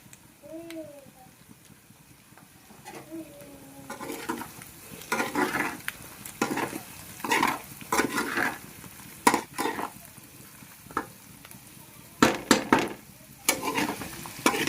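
Mutton blood curry fries in a pan with coriander and curry leaves, giving a soft continuous sizzle broken by repeated scraping stirs of a spoon against the pan. A few faint voice-like sounds come near the start.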